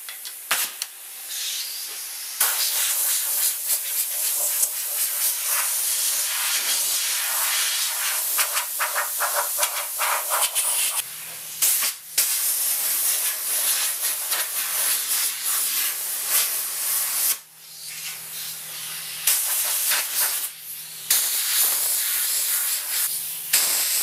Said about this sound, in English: blow over and blow any dust that might be trapped in the grain of the wood out